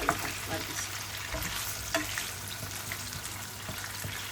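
Oil frying and sizzling steadily after shrimp was cooked in it, with a spatula stirring and scraping through the pan at intervals, close and continuous.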